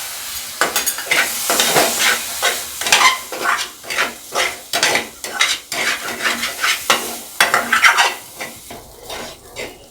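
Spoon stirring sugar into a little milk in a pan while making gulab jamun syrup, a steady run of scraping, clinking strokes against the metal pan, close and fairly loud with no talking.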